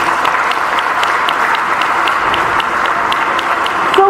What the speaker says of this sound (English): celebrate yourself by clapping your hands